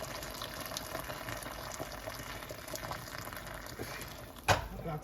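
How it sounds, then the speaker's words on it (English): Water pours steadily into a pot of seasoned chicken for Jamaican-style chicken soup, a continuous close splashing and bubbling churn that ends with a brief knock. "I want to add enough water to cover the chicken."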